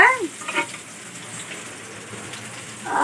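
Constant bubbling and sizzling fills the scene as a curry with mango simmers in a pot, with a few brief voice fragments at the edges.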